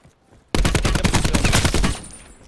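Rapid automatic gunfire in Call of Duty Black Ops 4 Blackout: a sudden loud burst of about a dozen closely spaced shots lasting roughly a second and a half, then a fading echo, alone.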